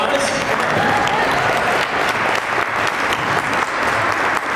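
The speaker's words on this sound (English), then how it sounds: "Round of applause" Steady applause from an audience at an environmental network briefing in the Ohio Statehouse, filling the room at even loudness from start to finish.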